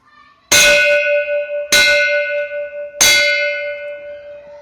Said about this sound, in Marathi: मुंबईतील फ्लॅटमध्ये घंटानाद झाला